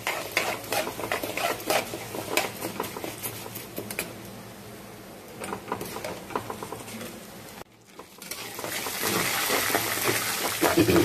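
Dals tempering in hot oil for a moong dal and rice flour upma, crackling and sizzling steadily with stirring clatter throughout, briefly cutting out before the frying grows louder again.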